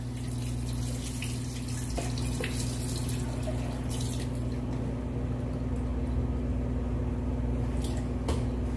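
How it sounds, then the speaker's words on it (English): Cold water streams steadily into a bowl of Jell-O mix for a cake, a continuous pouring and splashing over a low background hum. "We're going to add that next half a cup of cold water, so we have a full cup."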